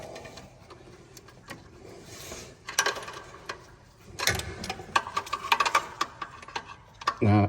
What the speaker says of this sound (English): this heater then takes a 15/16 socket to install.